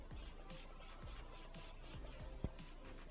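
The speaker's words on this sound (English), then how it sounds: "I'm gonna spray this" Brush cleaner made with natural orange peel cleansers sprayed from a pump bottle, seven soft rhythmic hissing spritzes in steady succession, fairly close, followed by a faint tap.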